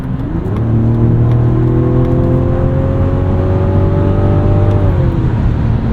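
A 2025 Mazda CX-70 with the 3.3-litre turbo engine accelerates hard in sport mode, its steady drone climbing in pitch over several seconds before easing off at the end, loud and close from inside the cabin.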